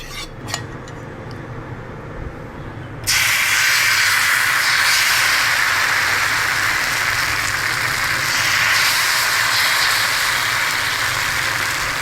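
Onion wheat flour dosa batter hitting a hot pan, starting from quiet clinks and scrapes and then bursting into a loud, continuous sizzle that holds steady.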